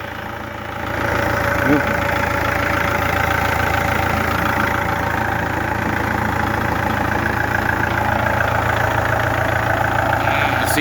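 A 2010 Kubota L4508 DI tractor diesel engine idles steadily and close by, a loud and even mechanical chugging that starts after a brief moment of quiet and holds for about ten seconds.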